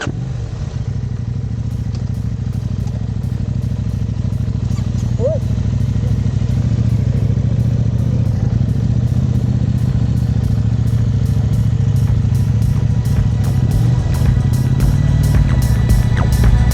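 Honda CB500X motorcycle riding along a road in the Scottish Highlands near the Spey Valley, a steady, loud engine drone with wind rumble running throughout, and a voice talking over it.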